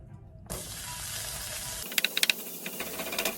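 A sudden loud sizzle starts as eggs hit a hot pan for sunny-side-up frying, then keeps hissing steadily, with a few sharp crackles and pops.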